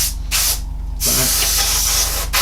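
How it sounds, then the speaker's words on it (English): An airbrush sprays paint onto a Revell 1/32 scale He111 model kit, making loud close hissing in bursts that start and stop, and a longer steady spray near the end. "Okay, we're going to spray everywhere."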